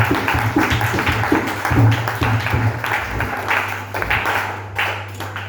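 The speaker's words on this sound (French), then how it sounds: "Nous acclamons le Seigneur pour la parole." Church congregation applauding after the sermon at a French-language Sunday service, a dense patter of many hands clapping, fairly close and loud for several seconds, with voices audible through it.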